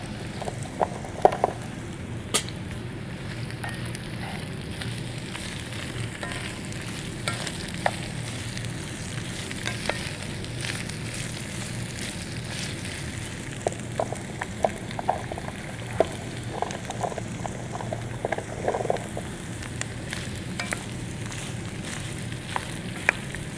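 Beets and carrots sizzle and fry steadily in a hot pan as they caramelize, a constant crackling hiss broken by occasional sharp pops and stirring clatters, with no voices.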